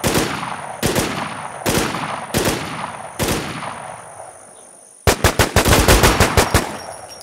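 Rapid bursts of automatic gunfire in the zombie survival game War Z, first four spaced volleys with echoing tails, then a denser, louder string of close shots near the end.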